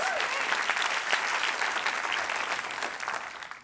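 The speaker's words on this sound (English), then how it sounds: "Round of applause." A crowd applauds steadily, a dense wash of clapping that holds even and then begins to fade at the end.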